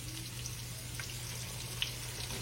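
A flour-dusted pork chop fries in hot grease with a steady, even sizzle and a few faint pops, quiet and close, with no speech.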